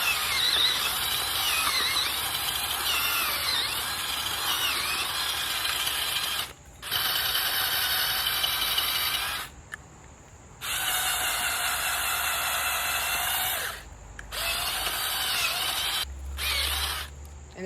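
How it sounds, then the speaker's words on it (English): A power auger bores a post hole in the ground for 4x4 posts, giving long runs of steady, loud grinding whir broken by brief pauses as it lifts and restarts. "I'm going to go down about the length of the auger for the hole"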